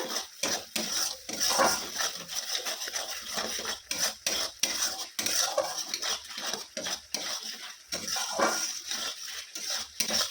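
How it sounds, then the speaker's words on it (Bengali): Spice paste with mustard fries in a pan while a metal spatula stirs it, close rhythmic scraping and clinking over a soft sizzle that carries on steadily. "এবার মশলাটাকে আমি একটু ভালো করে ভেজে নেব।"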